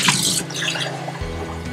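Tap water runs into a glass to rinse and fill it, a loud close stream with drips that shifts pitch as the glass fills, with no voices.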